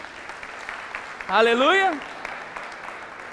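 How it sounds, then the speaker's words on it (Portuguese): A church congregation claps steadily during a Portuguese-language worship service. The clapping stays soft and continuous in the background while one voice rises over it with a short shouted exclamation. "Pode aplaudir ao Senhor,"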